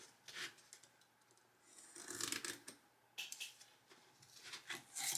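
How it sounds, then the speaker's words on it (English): A razor blade trims along the edge of a Dollar Tree sign, close and faint. It gives scratchy, rasping strokes in short bursts with brief pauses between them. "I'm just going to take my razor blade and go right along the edge."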